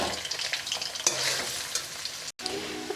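About 700 grams of onions sizzling in refined oil over high flame, stirred with a utensil that scrapes and clatters intermittently against the pan, with a steady close frying hiss throughout and a brief drop near the end.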